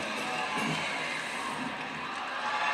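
Cheering crowd at a women's gymnastics championship meet, a steady broad roar of many voices rising into an eruption, loud and continuous throughout.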